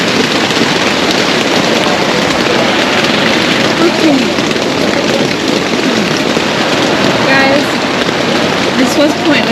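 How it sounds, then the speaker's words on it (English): Steady rain patters on surfaces at a camp during a wet fishing trip, a dense continuous hiss with scattered drops and faint background movement. "It's raining and I'm making coffee."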